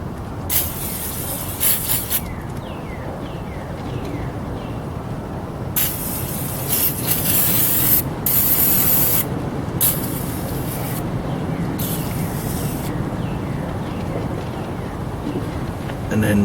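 Aerosol lubricant hisses in short and long bursts onto the camshaft lobes and bearings of a 1936 Austin 7 engine during a rebuild, with a steady background hum and occasional speech.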